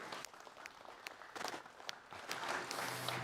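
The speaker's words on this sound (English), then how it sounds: "Give him a round of applause." Applause from an audience at a solar battery information evening as a guest walks onto the stage, faint scattered claps that swell toward the end.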